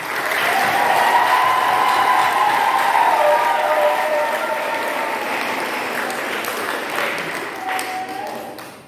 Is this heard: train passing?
no